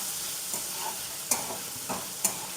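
Peas cook in a pan for sooji chilla, with a soft steady sizzle under a few distinct spoon scrapes and clinks at irregular intervals, close and fairly quiet, with no talk.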